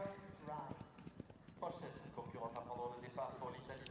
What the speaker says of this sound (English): the horse is still galloping as well